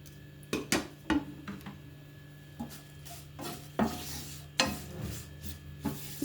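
Curry leaves drop into hot oil, bringing soft crackles, then intermittent scraping and stirring knocks against the pan, fairly quiet and close with no speech.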